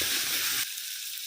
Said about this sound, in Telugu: కొంచెం సాఫ్ట్గా ఫ్రై చేసుకోవాలి హై ఫ్లేమ్లో